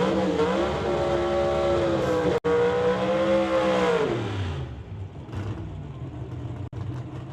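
A 68 Camaro drag race car engine idles and revs loudly near the water box at a drag strip, its pitch dipping as it backs up, with a few sharp clicks and a steady rumble.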